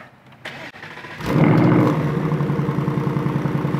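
A 2024 Ford Mustang Dark Horse starts in its quietest exhaust mode: a short starter crank catches into a loud, close idle that settles into a steady, pulsing burble.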